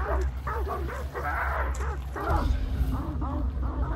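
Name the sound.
dogs barking in Hunt: Showdown video game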